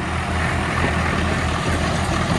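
Two Swaraj tractors, one new model and one old, pull against each other in a tug contest in first low gear at 1800 rpm, their engines a loud, dense, unbroken diesel roar.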